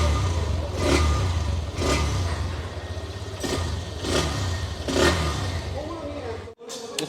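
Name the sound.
Hero Xtreme 125R motorcycle engine and exhaust revving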